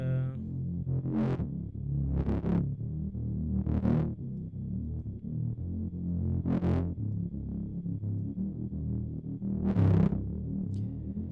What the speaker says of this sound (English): this has been used to control this little bit of distortion, the extra bit of distortion